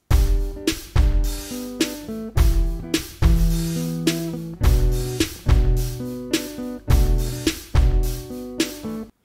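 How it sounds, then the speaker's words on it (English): A trap-leaning music production loop with a hi-hat pattern over heavy bass hits and melodic synth notes, repeating in a steady rhythm of loud, punchy bars with no voices. "here's what I came up with for a hi-hat pattern."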